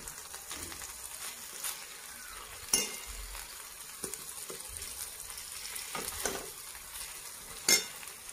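Eggplant and potato curry sizzles steadily in a pan while a spoon stirs it, scraping against the metal, with a few louder clinks of utensil on pan, close-up and without talk.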